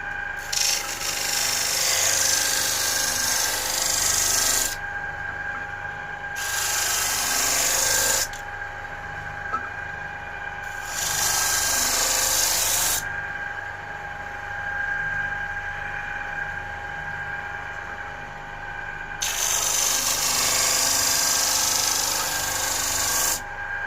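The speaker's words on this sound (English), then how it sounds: "we're going to just start sanding these off as well" Sandpaper rubs over a wooden phone dock in close, loud strokes, alternating between harsh scraping bursts and quieter passes, repeating several times.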